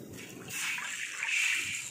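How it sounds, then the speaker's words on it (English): Water from a bowl is poured into a cast iron wok being seasoned after cooking chives in oil, a soft splashing and sizzling wash that swells then trickles on, fairly quiet and close. "Now I'm going to add a bowl of water."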